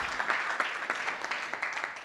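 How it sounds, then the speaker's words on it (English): A modest audience at a MAKEathon event claps, a moderate, fairly even patter of hands heard from a short distance, fading slightly. "I would invite to her another applause."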